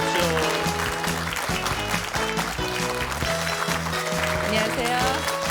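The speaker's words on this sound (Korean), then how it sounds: "두상달 김영선 선생님 큰 박수로 맞이해 주시기 바랍니다." A studio audience on a Korean TV morning show applauds as a married couple of lecturers enter. The clapping sits under loud, bright band music, and a host's voice can be heard over it.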